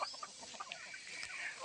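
Native chickens cluck softly in a short, faint series of calls, distant with a light background hiss.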